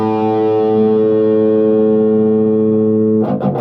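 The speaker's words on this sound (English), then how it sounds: "let's bring up the gain a little bit. Do a little bit high, a little mid, a little bass," An electric guitar through an EVH 5150III amp with the gain raised rings out as a loud, sustained, distorted chord that slowly decays before a burst of choppy picked notes at the end.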